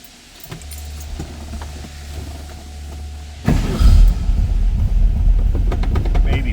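An idling 1966 Volkswagen Beetle engine hums low, then catches and roars into a loud, rumbling run that stays steady and close for the rest of the clip.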